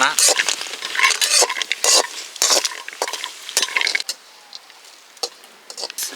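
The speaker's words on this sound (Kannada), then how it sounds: "ದ್ರಾಕ್ಷಿ ಗೋಡಂಬಿನ ಫ್ರೈ ಮಾಡ್ಕೊಳ" Raisins and cashews fry in ghee at an outdoor forest cooking spot, with a busy, crackling sizzle broken by scraping stirs against the pan. The sizzle quietens and thins out near the end, with no talking.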